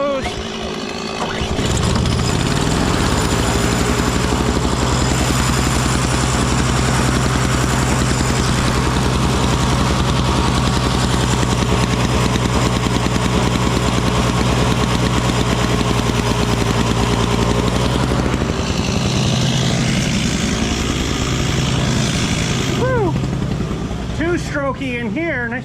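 A rebuilt STIHL 026 chainsaw engine runs steadily for about twenty seconds, a loud continuous two-stroke drone with a harmonic buzz, nearby and indoors, before cutting off near the end.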